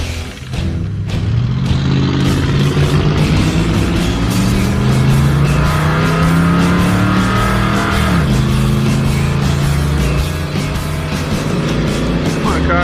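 Drag race car with its ignition timing backed off to 35 degrees roars down the strip under hard acceleration, its loud engine tone climbing steadily, easing briefly and then rising again, close and dominant with no talk.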